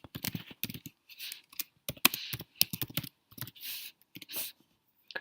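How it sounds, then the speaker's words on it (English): Rapid clattering keystrokes on a computer keyboard while entering a search in a web browser, coming in quick bursts separated by short pauses, close and fairly clear, with no voices. "Open a new tab, and I'm going to type in t-shirt."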